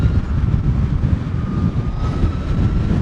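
A 2020 Harley-Davidson LiveWire electric motorcycle riding at nearly 70 mph, heard as a loud, steady rush of wind and road roar with a faint high electric whine running through it.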